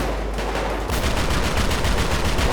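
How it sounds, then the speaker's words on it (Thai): Rapid cannon fire from a mini tank in a GTA V mod: after a brief lull, a dense, loud, continuous barrage of shots hammers away without pause, with no talking. "ไม่ต้องรอรีโหลดกระสุนฮะยิงได้รัวๆ"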